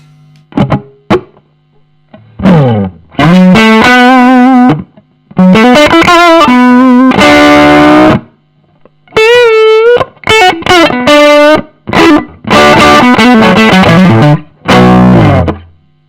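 Loud overdriven electric guitar through a Marshall Origin 20 valve amp plays chords and sustained notes in bursts separated by short pauses, with thick, saturated distortion.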